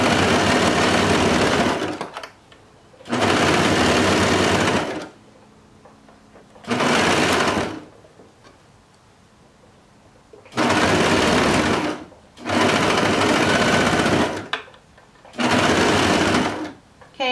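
Sewing machine stitching boy shorts across a seam, running in five loud bursts of steady whirring with short quiet pauses between, heard alone up close.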